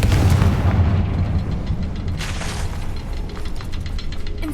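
A heavy, loud explosion from the Confringo fire spell in the video game Hogwarts Legacy, with a deep rumbling boom and crackling debris that slowly tails off over a few seconds.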